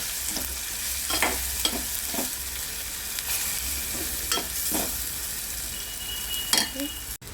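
Garlic masala for a potato-pea curry fries in a pan with a steady close sizzle, punctuated by intermittent stirring scrapes and a faint clink near the end, with no talking.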